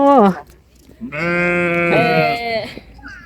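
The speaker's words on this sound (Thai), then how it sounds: "อันนี้แกะจริงจ้า" Sheep bleat at a farm in Doi Chang, Chiang Rai: a short close bleat, then a long, loud, wavering bleat that trails off, with a voice faintly nearby.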